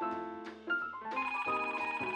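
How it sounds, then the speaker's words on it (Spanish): A telephone rings with a bright, repeating electronic tone, sounding loud and close, with no one talking over it. "¡Oh, ¡el teléfono!"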